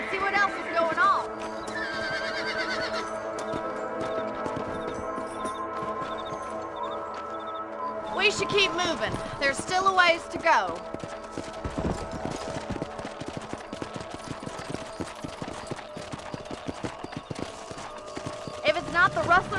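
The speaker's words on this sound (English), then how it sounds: "Let's get back on the horses and see what else is going on." Horses gallop and whinny in Red Dead Redemption, with steady clip-clop hoofbeats under someone speaking and a sharp neigh rising partway through, plus faint distant gunshots.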